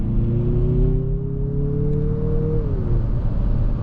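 A Mazda CX-50 with a 2.5 liter turbo four-cylinder accelerates, its engine note rising smoothly and steadily before easing off, heard from inside the SUV over a low road rumble.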